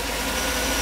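Close, continuous broadband drone of a Mercedes 500SL engine idling with an unstable idle, a steady dense mechanical hum with slight pulsing over a brief stretch.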